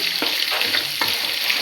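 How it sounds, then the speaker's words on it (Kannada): Onions frying in a pan for Mangalore-style chicken sukka, a loud, continuous close sizzle with a couple of brief stirring scrapes. "ಇವಾಗ ಈರುಳ್ಳಿ ಬೇಯಕ್ಕೆ ಇಟ್ಟಿದ್ದೀವಿ."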